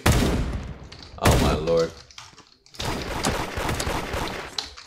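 Rapid bursts of gunfire from the Roblox game Da Hood crackle close and loud, broken by a short pause, while someone talks and exclaims over the shots.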